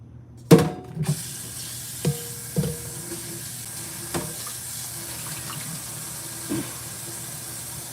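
A blender part rinsed under a running kitchen tap: water hisses steadily into the sink while several sharp clunks and knocks of the part against the basin break through, close and fairly quiet, no voices.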